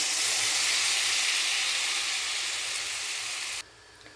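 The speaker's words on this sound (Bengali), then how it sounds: "এবার এর মধ্যে দিয়ে দেবো জল।" Water poured into a hot pan of cauliflower hisses and steams loudly and steadily for several seconds, then cuts off abruptly.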